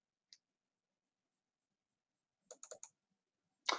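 A few sharp, quiet computer mouse clicks against silence: one isolated click, a quick cluster of three or four, then a louder final click.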